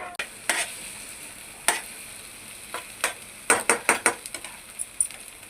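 Eggs and green chillies being stirred in a hot frying pan: a steady low sizzle broken by a series of sharp spatula scrapes and taps, clustered quickly near the end, close up with no talk.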